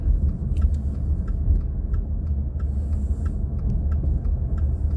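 A car drives along a road with a steady, loud low engine and road rumble from inside the cabin, plus faint ticking at regular intervals.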